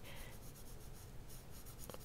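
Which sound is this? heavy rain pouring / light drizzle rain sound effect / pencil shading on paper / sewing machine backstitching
pencil shading on paper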